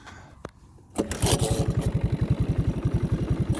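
A 1981 Honda 185S motorcycle engine catches after a cold start and settles into a rough, rapid, evenly pulsing idle close by. A few faint knocks come just before it fires.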